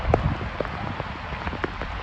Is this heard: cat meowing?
no